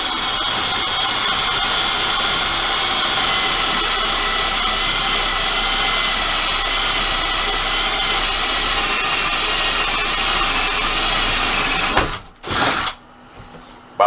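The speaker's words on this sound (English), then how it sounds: "So just going to drill a couple holes." A power drill runs in one long, loud, steady whirring burst, then cuts off and gives a couple of quick, short spurts.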